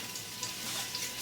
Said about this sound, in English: since we are double frying for supreme flavor and crisp